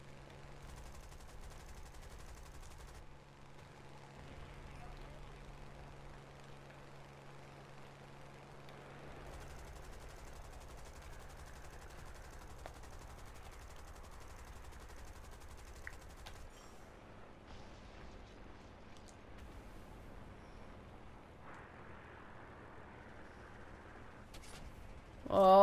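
Machine gun fire and aircraft engine drone from War Thunder's plane battles, a steady rattling barrage running under the continuous hum of a propeller fighter, with a sharp loud burst at the very end.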